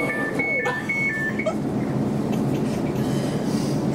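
A London Overground Class 710 train to Liverpool Street rumbles steadily along with a broad, roaring noise; a brief electronic chime or beeping tone sounds near the start.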